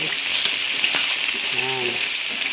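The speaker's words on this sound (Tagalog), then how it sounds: "lagay natin yung sibuyas. Yan. Haluin lang mga guys." Sliced onions frying in a hot pan for chicken steak, a bright continuous sizzle with occasional stirring scrapes and a brief faint voice in the background.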